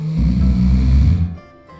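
A man snores thunderously, one long, loud, rumbling breath dominating the first second and a quarter before trailing off into quiet.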